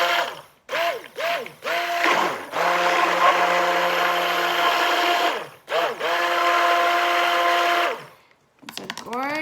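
A stick blender whirs through soap batter in steady runs of a few seconds each, with short pauses between them and a tonal, musical layer running underneath.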